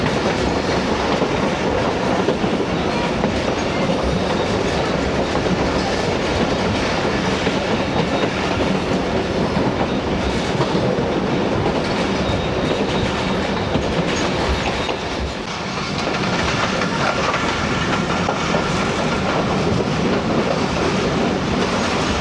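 The Sialkot Express, a passenger train on the Sialkot–Wazirabad branch line, runs past close and loud with a continuous rumble and rhythmic clickety-clack of wheels over rail joints, easing briefly midway, no voices.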